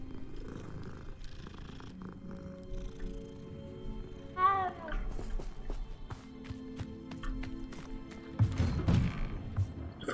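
Cat in Hogwarts Legacy gives a short rising meow near the middle, over a soft purr and quiet footsteps and ambient game sounds, fairly faint.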